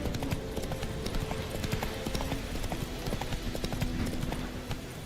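The horse Roach gallops in The Witcher 3: Wild Hunt, with dense, steady clip-clop hoofbeats that continue throughout over a busy game soundscape.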